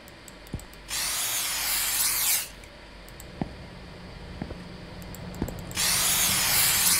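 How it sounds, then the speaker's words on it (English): Spray can hissing at rats in a convenience store video game, two loud sustained bursts of spray separated by quiet with a few sharp clicks and taps. "Oh, I gotta spray the rats."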